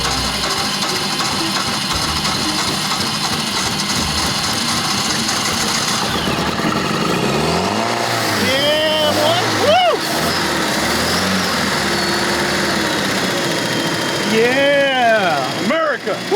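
An engine on a budget boat fitted with a cheap Chinese carburetor runs on the water with a steady, rough mid-pitched drone that rises and falls in revs, while people talk and shout over it.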